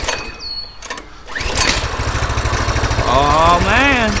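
A Coleman CT200U mini bike's small engine is pulled and started, then settles into a loud, close, steady running putter, with a voice speaking over it near the end.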